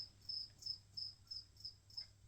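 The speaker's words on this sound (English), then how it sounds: "These crickets are loud, aren't they?" Crickets kept as live food for a pet bearded dragon chirp loudly and steadily, a regular pulsing trill repeating about every third of a second with no voices.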